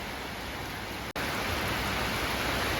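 Heavy rain pours down outside a football stadium in downtown Sisaket before a local derby, a dense, steady broadband hiss that stays loud and constant throughout, broken by one very brief dropout midway, with no voices.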